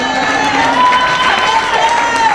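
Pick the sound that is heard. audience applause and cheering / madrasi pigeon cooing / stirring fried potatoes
audience applause and cheering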